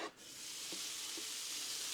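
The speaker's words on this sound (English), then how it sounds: "Sound of the sizzle. Sizzle of the Blackstone." Steady, loud sizzling hiss of bacon frying on a hot Blackstone griddle, continuous and close, with a couple of faint clinks.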